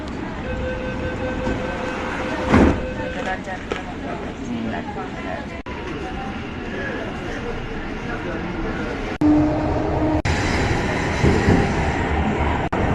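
A Kolkata metro train departs from Howrah Maidan, heading under the Ganga. It makes a steady, loud rumble inside the carriage with a sharp clunk partway through and a surge of noise as it gathers speed.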